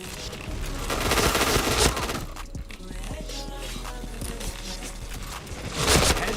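Rapid automatic bursts and single shots from the PointBlank first-person shooter, loud and close, rattling in quick clusters while someone talks over the gameplay.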